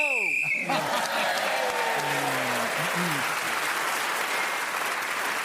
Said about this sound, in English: got the big round of applause